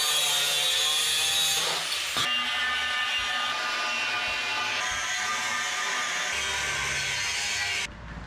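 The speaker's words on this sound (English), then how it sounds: "I'm gonna cut out the middle of the bumper." Power tool cutting through the steel bumper of a 1981 Ford Courier mini truck, a loud continuous high whine with a brief dip and a sharp change near the two-second mark.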